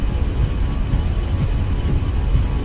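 Fenix A319 airliner engines at takeoff power in MSFS2024, a steady, loud, broadband jet roar with heavy low rumble, continuous and unbroken throughout.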